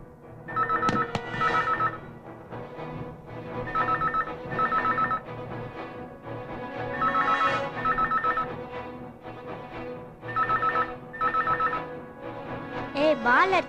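A telephone rings repeatedly in a home setting, with regular bursts of ringing separated by short pauses, loud and close, while people talk.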